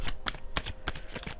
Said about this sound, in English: Let me cut these cards so we can get a better shuffle here.